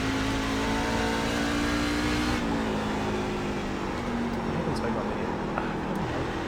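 A NASCAR truck engine throttles up on the Lucas Oil Speedway oval in a racing video game, its steady mid-pitched drone shifting tone partway through as the revs change.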